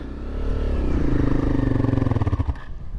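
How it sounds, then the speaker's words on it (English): A motorcycle in first gear with the rear brake held is revved and the clutch let out until it stalls: the engine note rises and holds at high revs, then labours into a rough, pulsing chug and dies out abruptly. "Now put your foot on the rear brake and try and take off with a bit of revs. You want to stall it out."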